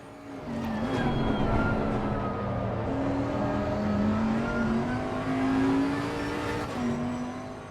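A Bentley GT race car in Assetto Corsa Competizione at the Nürburgring, its engine droning steadily and rising and falling in pitch through a chicane and the final corner, loud and close with no talk.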